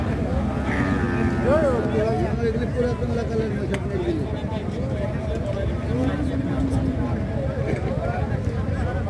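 Buffaloes at a busy city livestock market in Rajshahi, with low lowing calls rising over a dense, continuous crowd din and people talking throughout.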